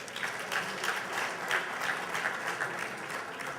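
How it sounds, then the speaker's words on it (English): Convention audience applauds state committee members in a sustained, steady wash of clapping that holds at an even level throughout without breaks. "Let's also give them a round of applause."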